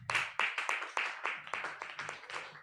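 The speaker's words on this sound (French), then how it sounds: "Stand up and give ovation to God." A church congregation at a worship service claps together in an ovation to God, a brisk, close run of several overlapping clap bursts with no voices.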